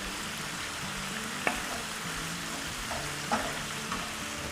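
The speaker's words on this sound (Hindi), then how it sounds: "ये देखिए इसका मॉइस्चर जो निकला है, अब बिल्कुल हाई फ्लेम पे थोड़ा सा ड्राई कर लेंगे।" Chicken sizzling in a pan over a high flame as its released moisture cooks off, a steady close frying hiss with a few faint clinks of stirring.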